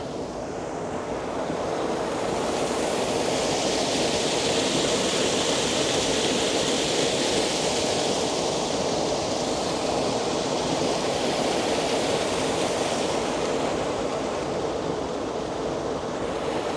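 Water pouring down a drop beneath a road in the Carolina Sandhills, a steady, loud rushing roar that holds without a break, with wind across the microphone.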